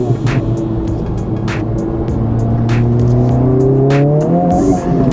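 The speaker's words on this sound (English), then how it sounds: "you could also hear some pops and burbles from the exhaust" Honda Civic Type R FL5 with a new downpipe pulls hard under acceleration, the engine note climbing across gears while sharp exhaust pops and crackles punctuate it at irregular intervals, heard from inside the car.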